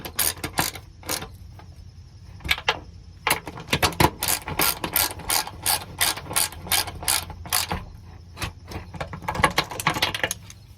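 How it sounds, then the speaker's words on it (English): Wrench ratcheting on 12 mm bracket nuts while fitting running boards to a Honda Pilot: repeated quick clicking strokes in steady bursts, close and fairly loud, with no talking. "And then you can tighten up these nuts."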